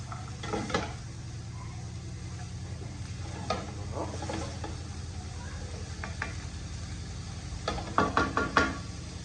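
Carrots go into a pan of frying potatoes: a low, steady sizzle with scattered knocks and scrapes, then a quick cluster of sharper clacks near the end as pieces drop in and get moved around.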